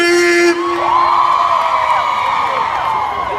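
A large festival crowd at an outdoor Caribbean music event screams and cheers loudly and continuously, a dense wash of high voices that surges, then holds steady.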